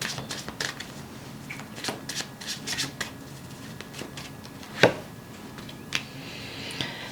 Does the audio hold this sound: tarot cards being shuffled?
yes